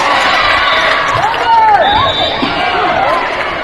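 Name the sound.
volleyball crowd reacting to a referee's call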